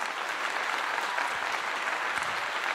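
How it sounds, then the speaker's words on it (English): Applause from a group bursts out at a Colorado football pre-game breakdown, dense and even hand-clapping sustained throughout, close and fairly loud with no talk over it. "We got to give him another clap again."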